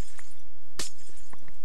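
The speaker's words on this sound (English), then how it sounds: "do you cry every time you hear the sound of breaking glass?" A single glass-breaking crash from the Minecraft video game, one bright shattering burst standing alone, with a few faint clinks scattered before and after.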